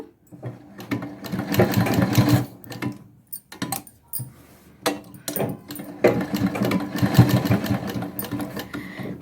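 A sewing machine stitches invisible piping onto a curved neckline in several close, loud bursts of rapid needle clatter. Short pauses and pivots at the corner break up the runs.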